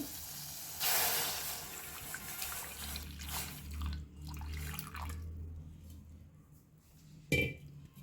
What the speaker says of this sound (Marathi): त्यामध्ये मी दूध घालून घेते